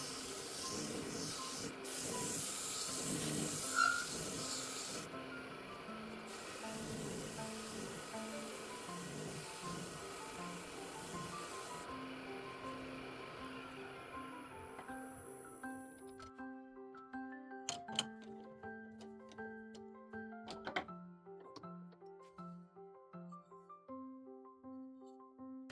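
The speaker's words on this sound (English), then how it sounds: "Before finishing the work on the lathe, I sand the handle to a smooth surface." A wooden spatula handle spinning on a lathe is sanded, giving a steady rough rubbing hiss over the motor's tonal whine, with the scratching coming in bursts before the machine winds down to a humming, ticking idle.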